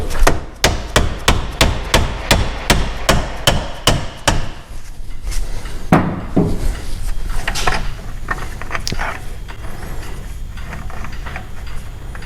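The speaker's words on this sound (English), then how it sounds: "When in doubt, a hammer is always the answer." A series of sharp metal hammer strikes on the rear axle of an Austin-Healey 3000 rings out in quick, regular succession, then gives way to scattered clanks and workshop clatter.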